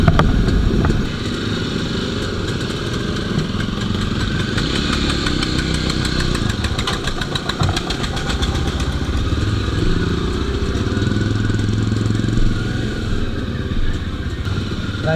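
Jawa motorcycle engines idle together as a group of riders gathers and parks on a rainy ride, a loud, continuous low rumble with fine mechanical clatter that stays close and steady, without talk.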